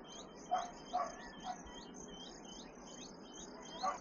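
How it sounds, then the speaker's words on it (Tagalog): Small birds chirp and tweet repeatedly on a peaceful morning in Davao, with bright, quick calls in a steady rhythm over faint insect buzzing and a few soft thumps, fairly distant and quiet. "Uli ng ibon, uli ng palaka. Wala pala palaka, puro ibon."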